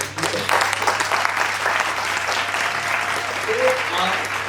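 Audience applause at a book launch in Dehradun, continuous clapping from a seated crowd with a low electrical hum and some voices in the background.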